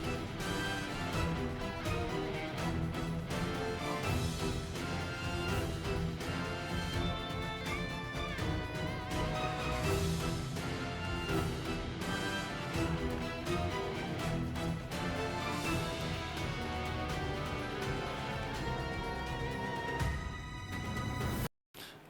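Monster Hunter Astalos battle theme plays continuously and dense, with driving guitar, brassy horns and bass layered at full volume, ending with a brief cut near the close; no one talks over it.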